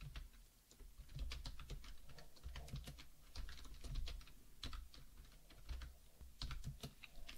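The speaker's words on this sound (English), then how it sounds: "we can type some code here" Computer keyboard typing as code is entered, a quick irregular patter of light key clicks in short bursts, close and fairly quiet, with no speech.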